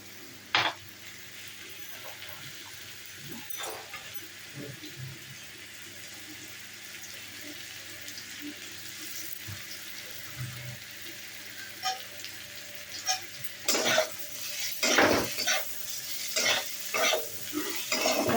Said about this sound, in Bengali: তারপরে একটু পেঁয়াজটা দিয়ে নাড়বো, পেঁয়াজটা দিয়ে একটু জল বেরোবে।